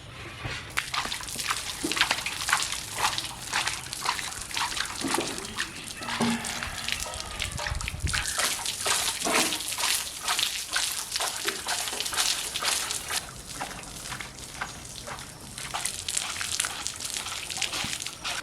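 Cow dung being mixed by hand in water for sprinkling over a doorstep, heard as continuous close sloshing and splashing with scattered drips, steady throughout, with faint background voices.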